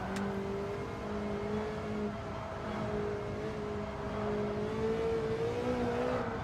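Car engine in Gran Turismo 7 during an online daily race, a steady droning hum that rises and dips slightly in pitch as the car is driven, continuous and fairly loud with no talk over it.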